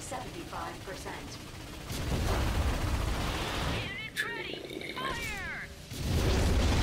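Rapid bursts of weapon fire and booming explosions from an ion cannon in Ratchet and Clank, with a voice talking over the chaotic battle noise.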